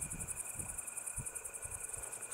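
Grasshoppers chirping in a late-summer meadow, a steady high-pitched pulsing trill running throughout, faint and outdoors, with a few soft low thumps beneath and no voices.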